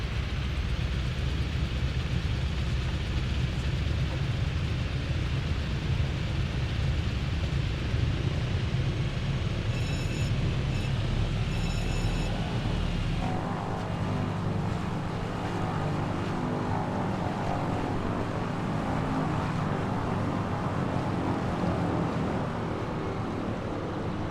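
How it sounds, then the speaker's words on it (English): A simulated light aircraft engine, a Wilga or Breguet XIV in MS Flight Simulator 2024, drones loudly and steadily, then drops to a lower, fluttering throb as power is reduced partway through. "I like the sort of fluttering sound the engine makes when you reduce the power"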